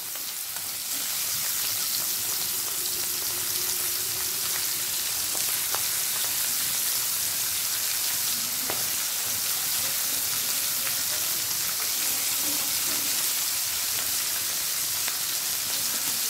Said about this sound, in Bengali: কড়ায় সর্ষের তেল দিয়ে তেলটাকে ভালো করে গরম করে নিয়েছি। এবার একে একে দিয়ে দেব মাছগুলোকে।